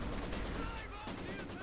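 A Maxim machine gun lays down suppressing fire in Company of Heroes 2, heard as rapid, low-level bursts of gunfire in a dense battle mix.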